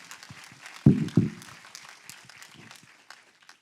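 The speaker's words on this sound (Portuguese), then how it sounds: "Aplauda ao Senhor." Scattered, fairly faint applause from a church congregation, with two brief low thumps near the start and a murmur of background noise throughout.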